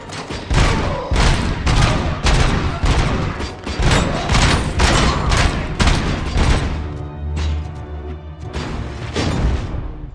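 Gunfire in the video game Robocop: Rogue City: dense, rapid volleys of loud shots and booms that run almost continuously, close and intense, easing briefly near the end.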